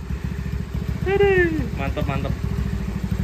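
Yamaha Mio motorcycle idling with an anti-ticket exhaust, a close, steady, rhythmic putter from the carburetor and engine, with a man's brief exclamation over it.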